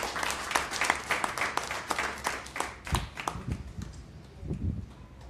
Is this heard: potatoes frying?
no